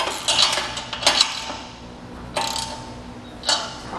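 A ratcheting wrench tightening the mounting hardware on a Malone MegaSport trailer carrier: a few short metallic clicking bursts, close, separated by pauses, with no talking.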